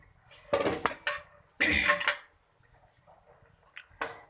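A serving spoon clinks and scrapes against a pot while chicken shaljam is dished out, in several loud, separate bursts of metal clatter with short pauses between them and no talking.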